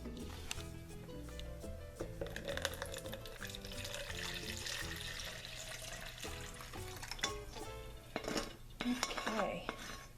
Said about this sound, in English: I want to kind of scrape all this goodness off and get some of that into the actual pan